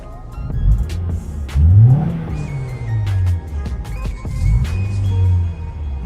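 A 2010 Honda Accord LX sedan engine cranks and starts up nearby, revving briefly before settling into a low, steady rumble with a couple of rises.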